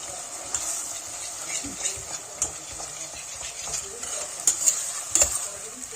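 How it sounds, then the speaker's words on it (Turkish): Pepper and tomato paste sauté in a pot on the stove for a dried bean stew. A steady, moderate sizzle runs throughout, with occasional light clicks and scrapes of a stirring utensil against the pot. "Salçası ile de beraber şöyle biraz kavrulsun"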